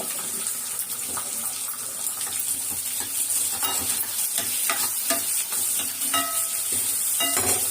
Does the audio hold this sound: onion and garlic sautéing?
yes